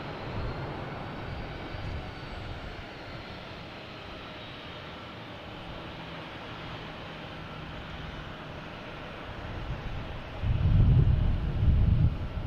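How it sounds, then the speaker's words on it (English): An Alaska Airlines jet at Boston Logan Airport produces a steady, distant roar with wind rumble, swelling into a louder low surge toward the end. "Alaskan Airlines are making all this racket."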